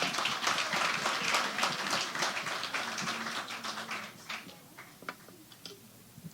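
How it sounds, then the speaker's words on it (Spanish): An audience claps for a book cover designer at a book interview event, with a fairly dense round of applause that thins into scattered claps and fades out. "Un aplauso para él."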